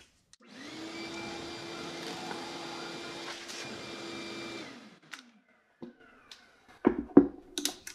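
A shop vacuum whirs steadily with a constant whine for several seconds while building a cross cut sled, then switches off, followed by a few scattered knocks and clicks.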